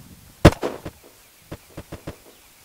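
Gunfire in the zombie survival game Unturned, one loud sharp shot followed by a handful of fainter, more distant pops spaced unevenly. No voices are heard.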